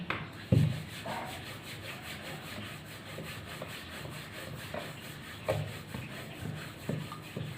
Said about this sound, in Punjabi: ਮੈਂ ਤਦ ਤੱਕ ਹੋਰ ਵੇਲ ਲੈਣੀ ਆ